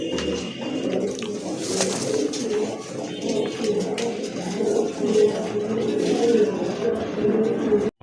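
A Sabchok boot-billed male pigeon coos softly amid a busy pigeon sale, its low calls half buried under background chatter and crowd noise.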